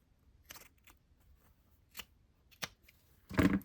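Scissors cutting through paper scraps, a few sparse quiet snips spaced apart and a louder rustling cut at the end, close by with no talking.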